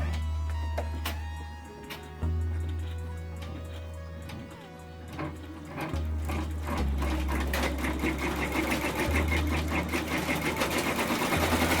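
A home embroidery machine stitches an applique outline on fabric for a 4x4 tooth fairy pillow design, giving a steady, close mechanical hum with rapid needle chatter that rises and falls in short bursts and keeps running throughout.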